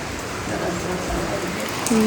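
Steady patter of rain falling across the whole stretch, a soft broadband hiss with no talking.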